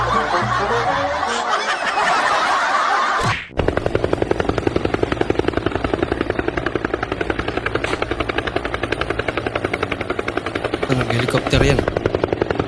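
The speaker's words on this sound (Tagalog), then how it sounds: "Helicopter yan." A helicopter's steady, loud rotor chop fills the scene after a short burst of laughter and an abrupt cut, with fast regular thumping that continues almost unbroken to the end.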